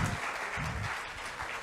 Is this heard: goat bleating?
no